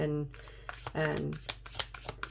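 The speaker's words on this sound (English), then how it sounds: "These cards don't want to shuffle" Playing cards being shuffled, a run of crisp riffling snaps that come after a short bit of speech and continue close and fairly loud.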